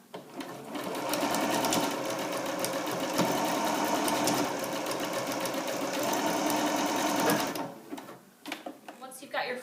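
A sewing machine stitching ribbon onto a baby blanket, a rapid steady mechanical whir running continuously for several seconds before stopping, close and alone, followed by faint handling noises.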